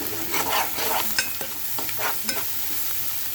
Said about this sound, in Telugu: ఇలా ఆనియన్స్ మగ్గిన తర్వాత ఆలుగడ్డలు వేసుకొని కలుపుకోవాలి.